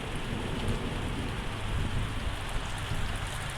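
Steady downpour from a thunderstorm with deep rolling thunder rumbles beneath, dense and constant, no talking.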